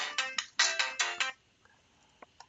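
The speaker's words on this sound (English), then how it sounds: "that was my phone" A mobile phone ringtone rings out clearly in five quick electronic bursts, then stops, leaving near silence with a couple of faint clicks.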